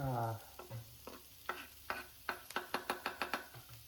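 Onions, capsicum and green chillies are stirred in a pan with a utensil over a soft sizzle. The scraping strokes start spaced apart and then speed up into a quick, even rhythm of sharp scrapes.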